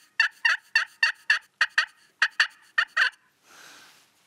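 A hunter's call imitates a hen wild turkey, a series of eleven sharp, evenly spaced yelps, clear and close, followed by a short soft rasp; no talking.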